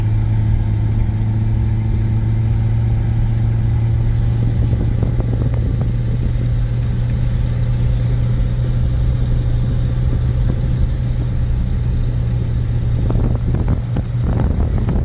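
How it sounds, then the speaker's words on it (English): A 1950 Buick Super engine runs with a blown exhaust donut gasket, giving a steady loud idle with a deep drone and a raspy, ticking leak that roughens midway and again near the end, with no talk. "We tried fixing the exhaust leak on it"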